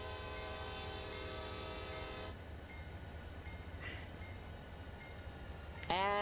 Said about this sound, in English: And there's another train, which in this case is a manifest.